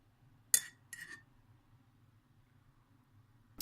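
A spoon clinks twice against a ceramic mug while stirring tea, one sharp tap followed by a lighter one, then near silence in a quiet room.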